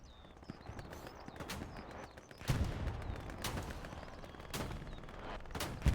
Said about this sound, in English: Is somebody using an anti-tank rifle in this comp match?